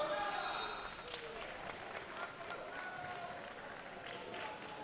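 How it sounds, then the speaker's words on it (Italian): Spectators clap at a Bassano versus Viareggio sports match, producing a broad wash of applause that is strongest at first and then settles, heard under a commentator's talk. "certe combinazioni poi non lasciano indifferente il pubblico e scatta l'applauso"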